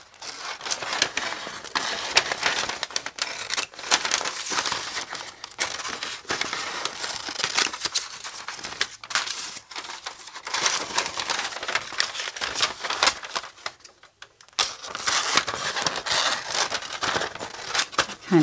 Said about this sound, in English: So I should be using bigger scissors for this than those little ones.